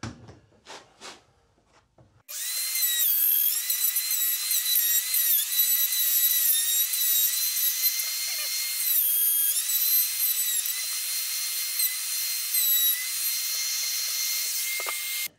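After a few faint knocks, a router starts cutting wood along a screwed-on template for a natural wood wall sculpture, a loud, steady, high-pitched whine that wavers slightly as it works for over twelve seconds.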